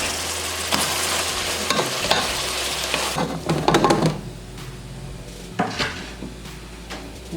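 A utensil scrapes and stirs ground meat sauce with onions in a sizzling pan, loud busy frying at first, then quieter intermittent scraping and clinks against the pan.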